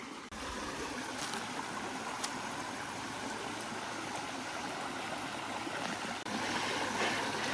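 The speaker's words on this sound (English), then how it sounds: "You can kind of hear the water, even if you get a little distance from it" Pickle Creek runs in a steady, broad wash of flowing water heard from a short distance along a state park trail, continuous and even with faint knocks over it.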